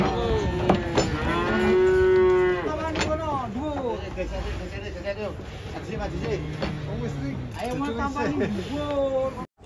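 Several cattle moo loudly and repeatedly, long drawn-out calls overlapping one another, as they come down from a truck, with people talking and background commotion throughout.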